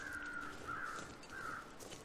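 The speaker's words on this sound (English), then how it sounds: "I hear birds." Crows caw from overhead in the snowy wilderness of the video game The Long Dark, a few harsh calls repeating over a steady windy background.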